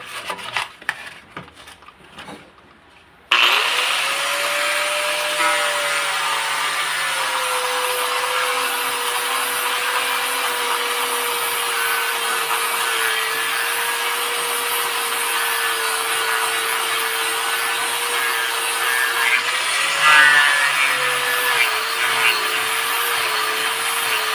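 Sandpaper rubs back and forth on wood in a steady, continuous scratchy rasp, close and loud, after a few seconds of quieter handling noise.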